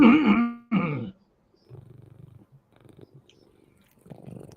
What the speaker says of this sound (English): That's everybody's favorite frequency, the kitty cat purring.